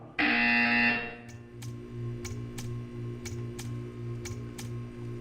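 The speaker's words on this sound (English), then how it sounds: "When you hear the buzzer, stare at the art." A loud harsh buzzer blares for about a second in a Portal 2 test chamber, then gives way to a quiet mechanical hum with a steady series of soft ticking clicks.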